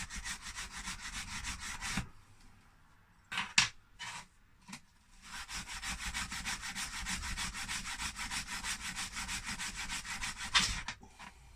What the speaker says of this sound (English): I'm going to see if a gentle rubbing down will help in this instance.